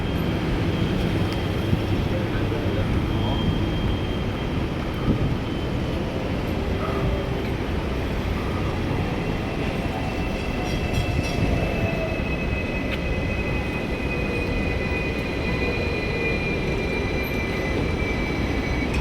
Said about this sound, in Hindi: आपको ट्राम्स नज़र आ रही हैं, इसमें एयर कंडीशन नहीं है।